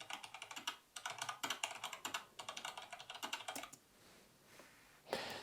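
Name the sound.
typing sound effect in CapCut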